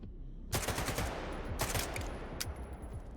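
Rapid machine gun bursts in the shooter game Stalker 2, several loud clattering volleys with short breaks between them, close and harsh.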